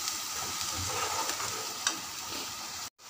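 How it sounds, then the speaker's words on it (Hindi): Onions fry on high heat in a pan, cooked for a bottle gourd kofta curry. A steady close sizzle runs with light stirring scrapes and cuts off abruptly just before the end. "तेज आंच पर हम इसे पका लेंगे प्याज को।"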